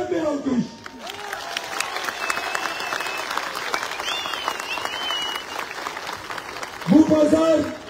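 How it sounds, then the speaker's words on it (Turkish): Audience applause at a Turkish political rally breaks out under and between a speaker's amplified voice, a broad sustained crowd clapping that swells and fades around the talk. "geçen seçimde Kemal Kılıçdaroğlu'nu verdiği oyu tekrar edecek olanlara yürekten bir alkış"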